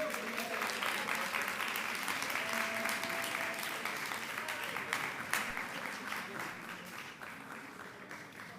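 Sustained applause from the audience at a public sector debate competition grand finale, a dense steady patter of many hands that carries on throughout and fades a little toward the end, with a voice speaking over it.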